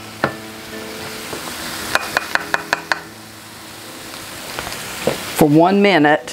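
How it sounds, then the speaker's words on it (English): Flour being stirred into a hot pan for chicken tetrazzini: a run of sharp knocks and scrapes of the spoon over a low steady sizzle, followed by a brief spoken voice near the end. "I'm gonna add my flour and I'm gonna stir it"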